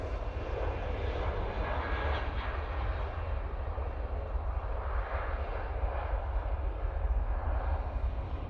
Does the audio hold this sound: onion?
no